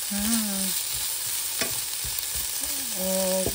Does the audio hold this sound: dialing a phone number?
no